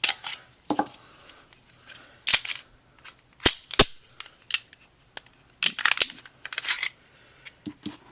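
Metal parts of a Glock 26 Gen3/Gen4 compact pistol, including the recoil spring, click and clack sharply during takedown, with a dozen or so brief, close taps and rattles spread irregularly through an otherwise quiet room.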